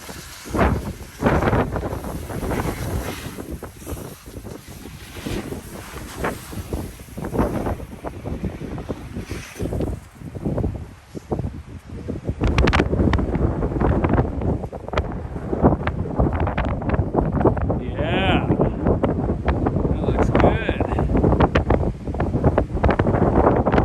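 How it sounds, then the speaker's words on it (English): Strong gusting wind on a mountain face buffets the microphone, roaring and fluttering in uneven bursts, growing heavier and more constant in the second half. "Got a little bit windy on us."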